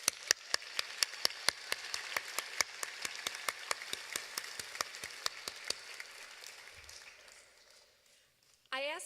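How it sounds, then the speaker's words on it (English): Audience applause at a University of Michigan law school commencement ceremony in May 2019: a steady burst of many hands clapping in a large hall, with a few sharp louder claps, tapering off over several seconds before a brief speaking voice. "Please join me in giving all of them a round of applause."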